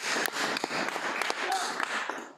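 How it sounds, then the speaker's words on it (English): Audience applause follows the host's farewell to a guest, with scattered claps rising and fading across a steady bed of noise and a hint of voices, fairly quiet and brief. "round of applause for Aaron Tilton, everybody"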